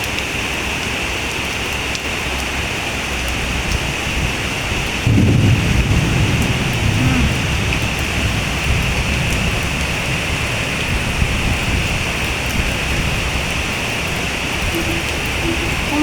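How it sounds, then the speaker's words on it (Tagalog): Heavy rain pours steadily in Malaysia with a dense, constant hiss, while a low rumble of thunder rolls in partway through, close and loud with no voices. "Diyos mio, ang lakas ng ulan."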